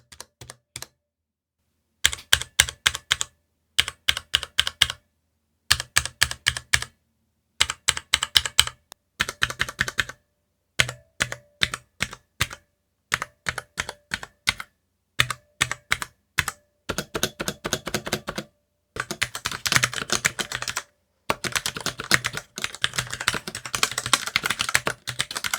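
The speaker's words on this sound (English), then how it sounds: "here is a sound test of the ArcPlay keyboard" Typing on a Spigen ArcPlay mechanical gaming keyboard: rapid bursts of crisp key clicks close up, separated by short silences and growing denser toward the end, with no talk.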